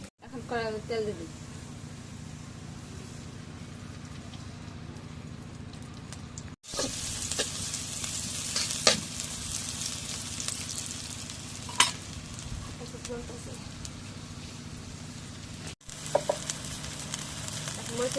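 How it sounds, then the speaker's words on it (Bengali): Oil sizzles and crackles steadily in a wok as soybean paste and potato are fried for a home breakfast, continuous and close, with people talking and a chicken clucking in the background. "এখন কড়াইতে তেল দিবি।"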